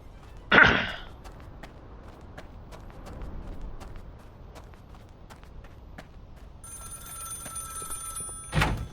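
A telephone rings in the Contraband Police border patrol video game, a short burst near the start and another at the end, with soft footsteps and faint sounds in between.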